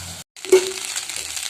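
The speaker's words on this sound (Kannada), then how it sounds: "ಮಾಡಿಟ್ಟಿರೋ ರೈಸ್ಗೆ ಏನು ಮಾಡ್ತೇನೆ ಇದನ್ನು ಮಿಕ್ಸ್ ಮಾಡ್ತೇನೆ ಇವಾಗ" A spoon scrapes and stirs cooked rice into a fenugreek tempering in a hot pan, with a soft sizzle underneath and a brief pause near the start.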